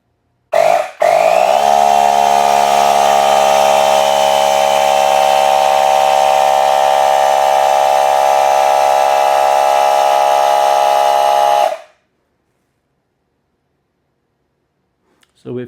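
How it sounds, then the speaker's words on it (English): Ultra-loud 18-volt cordless electric air pump running in a steady, droning buzz for about eleven seconds after a brief start-up stutter, then cutting off abruptly into silence. "Sometimes I'm just using this electric air pump, 18 volt."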